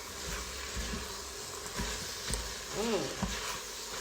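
Onions and celery being stirred as they cook in an Instant Pot, with a soft continuous sizzle and faint scraping of a spoon against the pot, steady and close.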